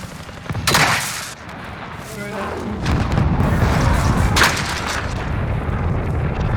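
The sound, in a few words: gunfire and rockets in video game Warzone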